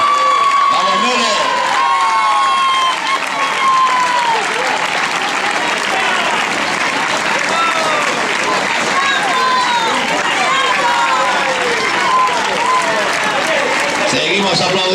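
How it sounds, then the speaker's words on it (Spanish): Crowd lining the course of a 10K road race in A Illa de Arousa applauds and cheers runners, loud and continuous, with an announcer's voice and shouts over the clapping. "Seguimos aplaudiendo"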